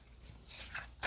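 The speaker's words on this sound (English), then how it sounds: "we're going to pull one more card for you" Tarot cards are shuffled and one is drawn in a brief, close papery rustle ending in a crisp snap.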